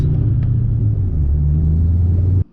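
A Ford Mustang being prepared for drifting rumbles loudly with a deep, steady engine drone during a U-turn, close up, then cuts off abruptly.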